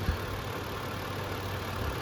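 A 2009 Hyundai Azera Limited with a timing-chain engine and 183,000 miles idles steadily, a low, even hum with a faint tick running throughout at close range.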